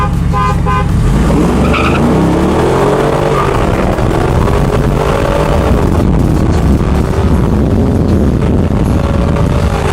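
A truck doing a burnout, its engine roaring at high revs with squealing tires, loud and continuous throughout, with a brief horn toot near the start.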